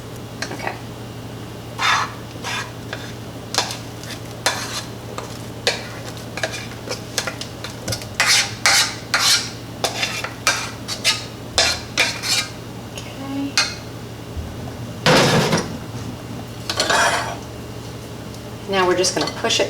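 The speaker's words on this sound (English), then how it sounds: "Now we're just going to push it through that strainer so that we don't have any lumpy bits of fresh zest in there." A spoon scraping and pressing a tart lemon-zest mixture through a metal strainer, with repeated irregular clinks and scrapes, occasional louder knocks, and a steady low hum underneath.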